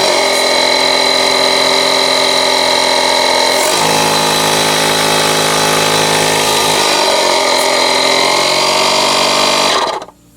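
A broken Oittm tire inflator pump runs loud and close with a steady, buzzing mechanical drone. Its pitch shifts slightly partway through, and it cuts off abruptly near the end.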